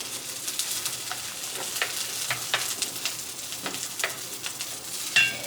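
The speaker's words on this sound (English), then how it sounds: "Okay, so we're adding our celery first." Celery sautés in a soup pot for tomato chicken rice soup, a close, steady sizzle broken by irregular scraping and stirring clicks, with no talking.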